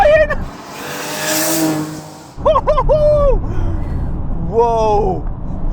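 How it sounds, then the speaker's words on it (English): A Toyota Supra TRD with a twin-turbo engine revving hard, loud rising engine tones that climb, drop and climb again in two surges, with a voice talking over part of it. "I love the way the turbos come in"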